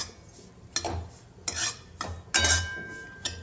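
Bitter gourd bhaji mixture with coconut, coriander and peanut masala being stirred and fried in a pan, a few distinct spoon scrapes and clinks in bursts over a faint sizzle, close by, no voices.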